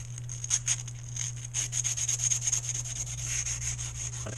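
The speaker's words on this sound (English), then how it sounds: "all I'm doing is just sanding these down a little bit" Hand sanding of Zenoah marine engine parts: rapid rough scraping strokes in a steady back-and-forth rhythm, close by, over a constant low electrical hum.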